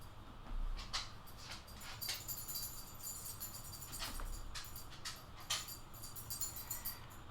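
Dogs whimper and whine for their dinner indoors, a series of faint, high, intermittent whines and yips scattered over a quiet background.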